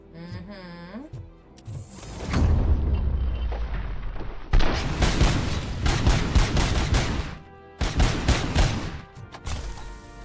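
A grenade goes off in the video game Robocop: Rogue City, with heavy booming blasts and a sharp explosive burst amid ongoing gunfire, loud and close, while a voice talks over the chaos.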